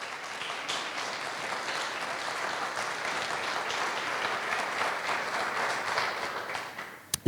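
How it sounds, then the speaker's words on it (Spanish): A church congregation gives sustained applause, a dense wash of many hands clapping at steady loudness that cuts off abruptly at the end. "Dale un fuerte aplauso al Señor."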